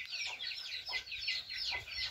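Desi hens on a small backyard farm cluck in short, repeated bursts, close and clear, with a few softer calls in between.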